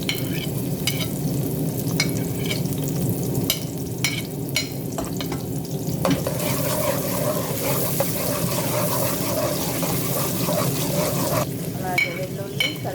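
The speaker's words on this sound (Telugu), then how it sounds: "అలాగే వెల్లుల్లి, కరివేపాకు ఇలా వేగించుకొని" Onion, garlic and curry leaves frying in a small amount of oil in a pan, a steady close sizzle with occasional stirring scrapes throughout.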